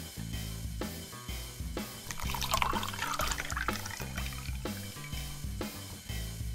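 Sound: beer poured into a mug

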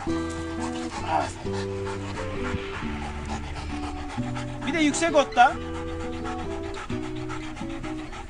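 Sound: hunting dog panting

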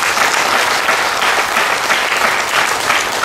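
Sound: applause

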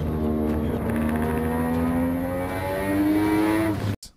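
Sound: rotary Wankel engine car revving hard

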